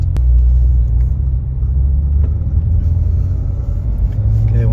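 Porsche 911 4S with a sport exhaust, a deep, loud, sustained rumble that swells slightly as the engine revs, with a faint click partway through and no voices.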